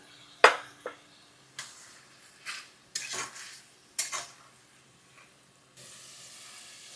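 Beans and shrimp with jackfruit seeds get stirred in a metal cooking pot, a sharp spoon clank followed by several scraping strokes at uneven intervals, near and loud, then a faint hiss, no voices.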